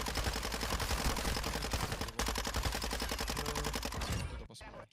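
Rapid automatic gunfire in Call of Duty: Warzone 2.0 rattles almost nonstop for several seconds, loud and close, with a brief gap midway before cutting off.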